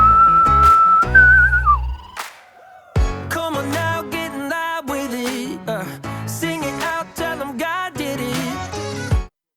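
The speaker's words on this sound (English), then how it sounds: "Now let's whistle along." Clear melodic whistling carries a tune over accompanying music, with long held notes, slides, and quick runs, loud and close.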